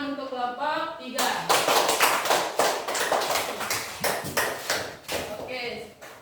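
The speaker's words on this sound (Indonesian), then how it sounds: "tepuk tangan untuk kelompok 3" A classroom group of students bursts into applause, a dense, steady clapping of many hands that starts after a moment of speech and runs for about five seconds, loud and close, tapering near the end as a voice returns.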